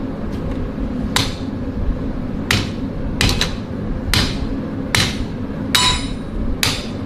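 Hammer striking a katana blade, about eight sharp metallic blows at an uneven pace over a constant background hum, with no talking over the strikes.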